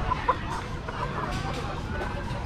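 Free-range Ben Tre chickens at a busy market stall, with faint clucks heard through a dense wash of crowd noise and talk.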